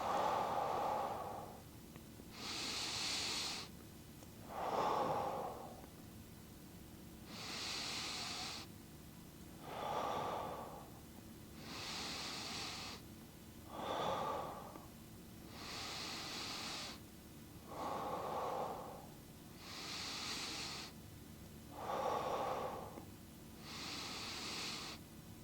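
Slow, deep breaths during a stretching exercise, each inhale and exhale a long, soft airy rush, repeating evenly about every two and a half seconds, close and quiet with no talking.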